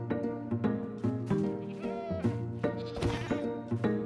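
Minecraft goat bleats come repeatedly in wavering, nasal cries with a steady pulsing rhythm, close and fairly loud, with a few soft thunks mixed in.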